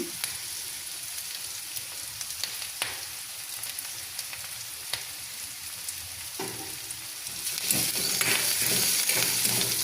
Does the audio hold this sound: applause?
no